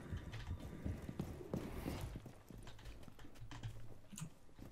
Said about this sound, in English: Oh, wait, I think I hear footsteps.